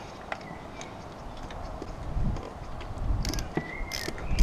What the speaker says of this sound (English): I'll probably speed this bit up so you don't have to watch every single turn of the ratchet.